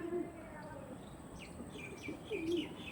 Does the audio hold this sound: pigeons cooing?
yes